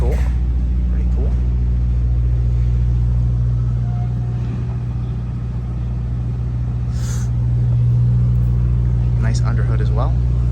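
A 1957 Chevrolet 210 hardtop idles steadily nearby with a low, even rumble throughout, while a person talks over it at moments.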